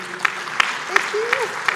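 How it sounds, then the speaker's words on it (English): Audience members at an accountants' congress in Kigali give a few slow, evenly spaced claps over about two seconds while a voice talks underneath. "have your claps please."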